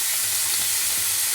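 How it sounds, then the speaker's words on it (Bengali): Black cumin seeds crackle and sizzle in hot oil in a wok, a dense, steady frying hiss held close and loud with no talk. "কালো জিরে ফোড়ন দেবো,"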